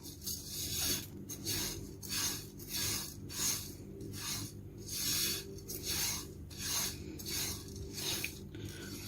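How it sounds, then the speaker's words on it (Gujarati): Fennel seeds, with some watermelon seeds, dry roasting in a pan while being stirred produce a steady rhythm of about a dozen dry scraping, rustling strokes, close and fairly quiet, with no talking. "આને આપણાને ડ્રાય રોસ્ટ કરવાની છે"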